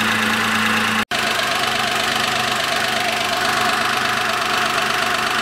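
A 0.8-litre Daewoo Matiz engine from 2011 idles steadily with a low, even rumble, broken by one brief dropout about a second in.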